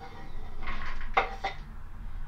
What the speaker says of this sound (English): I'm just gonna dump the fruits